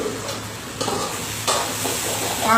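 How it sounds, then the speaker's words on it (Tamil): Mutton breastbones boil in a cooking pot, bubbling and sizzling with stirring scrapes and clinks, close and continuous, with no talking. "அதுல ஒண்ணு கொதிக்கிறது அதுவும் நெஞ்செலும்பு"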